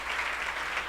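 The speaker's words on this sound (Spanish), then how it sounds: "Recibe un caluroso aplauso de tu pueblo. Un caluroso aplauso." A church congregation applauds warmly, a dense, steady wash of many hands clapping together close around, with no voices rising above it.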